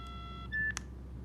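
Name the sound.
Nokia 9210i Communicator phone dialing a call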